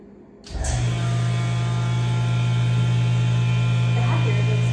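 A vacuum sealer's pump kicks on abruptly after a brief quiet moment and settles into a loud, steady, droning motor hum while vegetables are packed for freezing.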